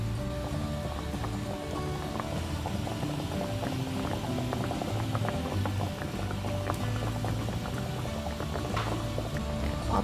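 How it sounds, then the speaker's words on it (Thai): Water boils vigorously with rice-flour dough sheets in it, a dense bubbling and popping that stays steady and close throughout. "น้ำเดือดแล้วก็เอาลงต้ม"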